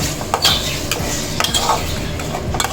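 Broken eggs stirred in a pan for Tamil-style egg podimas, a spoon scraping and clinking against the metal in quick, steady strokes, close and clear with a faint sizzle beneath and no talking.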